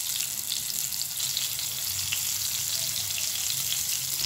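Marinated pieces fry in a hot pan with a constant, even sizzle and faint popping, loud and close, without speech.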